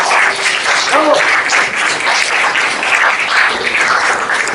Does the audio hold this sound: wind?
no